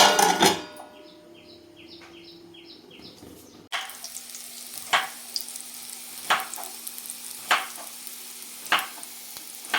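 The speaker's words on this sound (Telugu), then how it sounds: "ఇప్పుడు సిమ్లో మగ్గుతూ ఉంటుంది" Bitter gourd frying and simmering over a low flame, a soft steady sizzle with repeated scraping stirs at regular intervals, fairly close and quiet, no voices.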